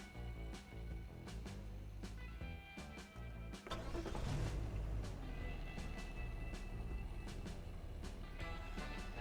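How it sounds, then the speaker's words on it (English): Steady engine drone inside a moving car, with rumbling road noise, periodic clunks and rattles, and a swell of louder mechanical noise partway through. "This car makes weird noises."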